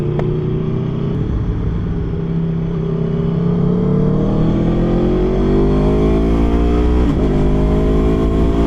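An Aprilia Tuono V4 motorcycle engine revving up close, loud and throaty, its pitch sliding up and down through repeated throttle blips over a steady rumbling idle.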